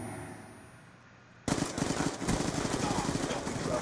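Sudden dense burst of rapid automatic gunfire in a capture-the-flag match on the Standoff map, loud and continuous after a quieter lead-in.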